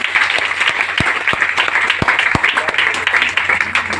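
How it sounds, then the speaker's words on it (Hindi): A meeting crowd bursts into loud, sustained applause, the dense clapping running steadily throughout with a few sharper individual claps standing out. "एक जोरदार ताली फिर से सर"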